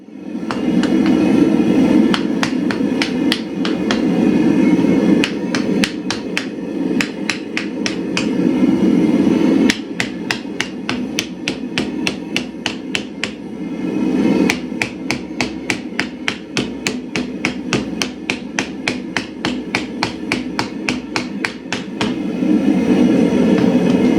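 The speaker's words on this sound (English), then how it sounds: "placing the mild steel over the edge of the anvil, hammer the eye of the hatchet to shape" Hot mild steel hammered over the edge of an anvil to shape a hatchet eye, with loud, rapid, ringing metallic blows in bursts and short pauses between them, close by.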